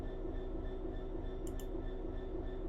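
Train in the PC game Train Sim World 3: a steady, dense low rumble of the train runs throughout, with a brief high hiss partway through and no talking.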